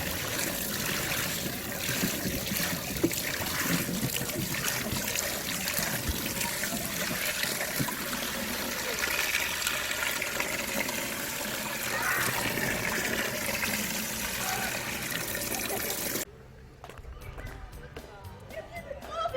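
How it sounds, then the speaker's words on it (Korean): Water trickles and splashes steadily from a turning water wheel in a traditional hanok village, a dense, continuous wash that drops off near the end as the scene changes. "이 소리는 물레방아 내려가는 소리입니다."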